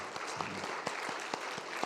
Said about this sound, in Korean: 서도야 성도님 양지리에서 오셨는데 잠깐 일어서 주시면 우리 환영의 박수를 함께 하겠습니다